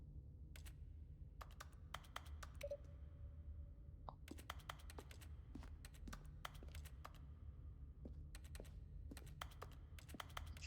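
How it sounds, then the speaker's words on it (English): Keyboard typing in The Stanley Parable video game comes as quick bursts of crisp, close key clicks separated by short pauses over a low steady hum, with no talk. "Typing."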